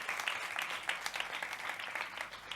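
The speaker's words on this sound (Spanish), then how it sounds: "pues un fuerte aplauso" An audience at a school sports event applauds steadily, a dense wash of clapping hands that holds even and continuous throughout, fairly close and without any voices over it.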